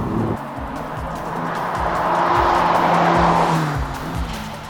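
A Ferrari Roma GT drives past with a loud, rising engine note and steady tire roar on the road, building to a peak midway and then easing slightly, heard alone without voices.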